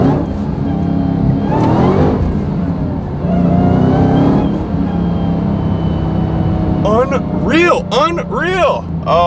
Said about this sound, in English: I'm just gonna give it just a little blip at the accelerator